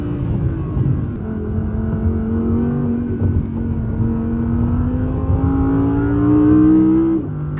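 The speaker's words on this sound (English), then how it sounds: "Car feels so good to drive" An Audi built to drift pulls along a scenic road, its engine note held close and steady, then climbing gradually in pitch as it accelerates, with no talking over it.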